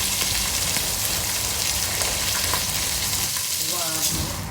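Rice fried in hot oil with masala for mutton biryani gives a steady, loud sizzle that runs through the whole clip, with faint stirring and no speech.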